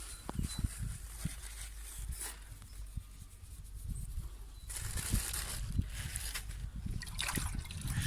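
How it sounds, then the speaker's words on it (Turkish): Water poured onto freshly planted flowers in a village garden, a soft splashing trickle over soil with rustling and handling noises nearby, low in level and with no voices. "Şöyle diktik suyumuzu da koyuyoruz."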